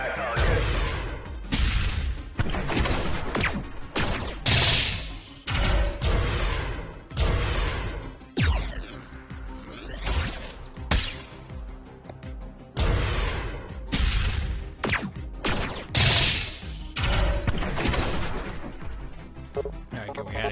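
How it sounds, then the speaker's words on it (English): Ship guns in the game Station Command fire in heavy booming salvos, loud and nearly continuous with crashes and whooshes, while voices talk over the barrage. "All guns on that target."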